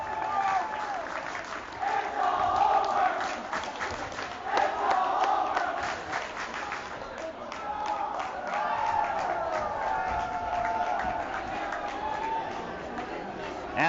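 Basketball crowd at a high school boys' game, Braintree versus Newton South, chanting in unison with rhythmic swells over loud general crowd noise and scattered applause.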